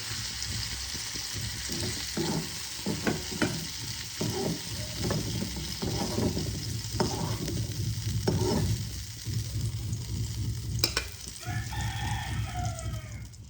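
Onion, garlic, ginger and tomato frying in a pan, a steady close sizzle with repeated scraping stirs, and a rooster crowing in the background near the end.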